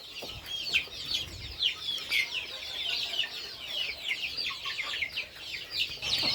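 Chicks and chickens in a poultry shed on a small chicken farm, a dense continuous chorus of high chirping and clucking throughout, fairly close, with no talk.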